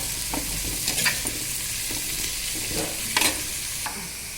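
Shredded cabbage and other vegetables cook in a pan for noodles, a steady close sizzle broken by scraping stirs and light clinks of the spoon.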